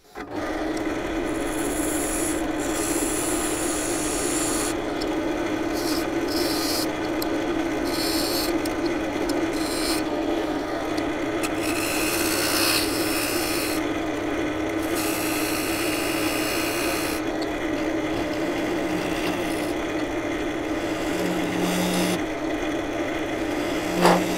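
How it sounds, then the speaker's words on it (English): Skew chisel cutting a mortise in spalted silver birch on a wood lathe, a continuous close scraping rasp over the steady hum of the spinning lathe, with the tone shifting as the tool presses in and lifts off. "I'm just going to use the skew now to sort out the mortise in there"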